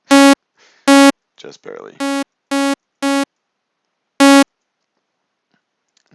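Loud synth notes played at high velocity in FL Studio, short bright tones repeating in separate bursts with gaps, interrupted by a brief spoken comment.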